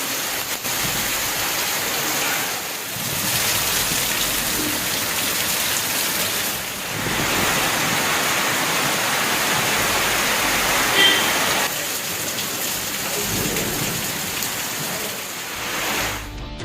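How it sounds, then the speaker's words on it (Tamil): Heavy rain lashing down with strong wind, a dense, loud, continuous roar that swells and eases in gusts over more than fifteen seconds, with no voices over it. "1 மணி நேரத்திற்கும் மேலாக பலத்த காற்றுடன் கனமழை பெய்தது"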